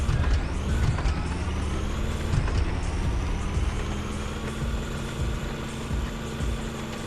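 A PZH 2000 self-propelled howitzer driving forward in Roblox, its engine a steady low rumble and whine that rises slightly as it moves, with a few faint clanks early on, no voices.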